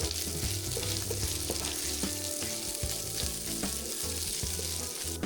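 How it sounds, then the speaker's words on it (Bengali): Cubed onion and capsicum fry in a pan for a pizza topping, giving a steady, close sizzle with a busy crackle that runs evenly throughout, with no voices. "কিউব করে কাটা পেঁয়াজ ওয়ান ফোর্থ কাপ কিউব করে কাটা ক্যাপসিকাম ওয়ান ফোর্থ কাপ সব কিছু ভালোভাবে ভেজে নেব"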